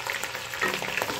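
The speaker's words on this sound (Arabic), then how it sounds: "نشوح بقى فيه، نبدأ نشوح" Sliced sausage sautés in a pan for a baked pasta dish, a brief burst of dense, close crackling sizzle with no talking.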